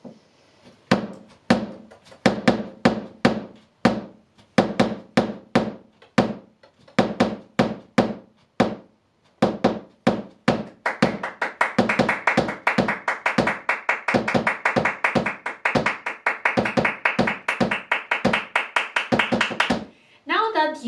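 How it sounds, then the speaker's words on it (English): Flamenco body percussion: sharp foot stamps in a steady rhythmic pattern, joined partway through by fast, continuous hand clapping layered over the stamping, close and loud throughout. "being the tamp with your foot and the contratamp with your clapping"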